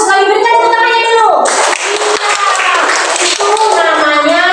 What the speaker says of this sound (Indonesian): Kali berikan tepuk tangannya dulu.